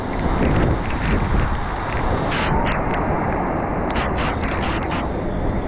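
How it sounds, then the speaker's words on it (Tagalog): Super Typhoon Uwan's strong wind roars continuously and loudly right at the microphone, with heavy, steady buffeting and no letup amid wrecked huts and flooding. "Ang lakas ng hangin."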